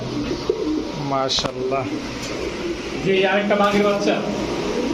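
Kaldam Saharanpuri pigeons coo at a pigeon farm, soft repeated throaty coos running under fairly close, steady conversation among several people.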